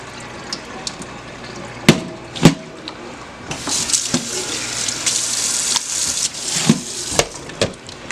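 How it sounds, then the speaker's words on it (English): Cold tap water runs steadily over raw chicken in a kitchen sink, a continuous splashing rush that swells midway, broken by a few sharp knocks and clatters. "You always want to handle meat, raw meat like this with cold water, not hot."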